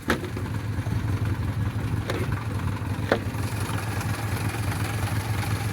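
A 1977 Leyland Mini Pickup with an A-series engine idles close by, a steady low even rumble with a few small clicks and no voices over it.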